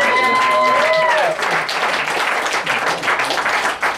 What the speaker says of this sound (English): Let's have a round of applause for everybody you've seen tonight.